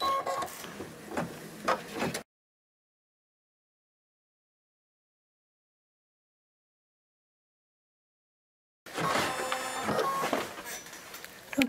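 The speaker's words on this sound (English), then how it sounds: "So next stitch it's gonna do is gonna do the cutting stitch again." An embroidery machine sews the cutting stitch of an appliqué, giving a rapid mechanical stitching chatter in two close bursts separated by a long stretch of silence.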